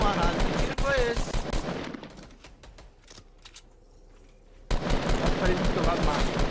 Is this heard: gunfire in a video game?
yes